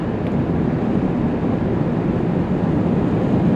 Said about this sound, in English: So the soft top's up, as I mentioned, but there's still some wind noise in here.